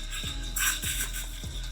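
An espresso machine steam wand aerates milk in a pitcher, giving a steady hissing broadband rush with a brief louder surge, accompanied by low repeated knocking thumps in the background.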